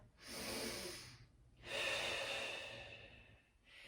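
Deep breaths drawn in and let out during a Pilates stretch, two long breathy exhales filling most of the span, close and fairly quiet, with no talking.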